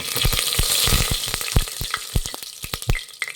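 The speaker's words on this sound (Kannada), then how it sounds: "ಎಣ್ಣೆ ಬಿಸಿಯಾಗಿದೆ ಒಂದು ಪಲಾವ್ ಎಲೆ ಹಾಕ್ತಾಯಿದ್ದೀನಿ" Bay leaf, cinnamon and fennel seeds sputter in hot oil for plain pulao, a dense near crackle broken by sharp pops and bursts, loud and steady with no talking.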